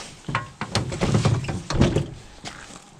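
A car door, on a Camaro in a snowy setting, gives a string of dull thunks and clunks as it is handled and locks, close by and fairly loud.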